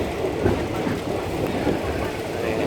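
A train in Thailand nears a station with a steady, loud rumble of wheels and carriages throughout, a continuous dense rolling noise up close inside the train.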